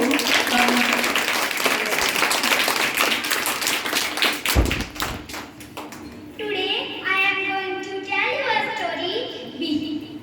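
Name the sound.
audience applause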